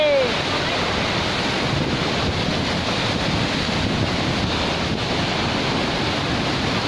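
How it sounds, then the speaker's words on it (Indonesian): Langkuik waterfall in West Sumatra rushing as a loud, constant broadband roar of falling water, close by and unbroken for the whole stretch, with faint wind buffeting the microphone. "Ini air terjun pertama"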